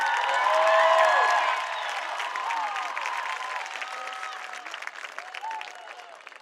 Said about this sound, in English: And a round of applause for all of our graduates again.